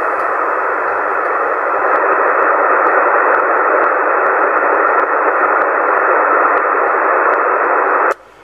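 Steady hiss of CB radio static on channel 27 fills the stretch, loud and unbroken with faint periodic clicks, then cuts off abruptly near the end.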